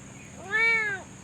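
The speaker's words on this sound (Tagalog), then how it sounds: "Dito yung mga pusa" A single clear cat meow on a piglet farm, close and loud, rising and falling over about half a second against a quiet background.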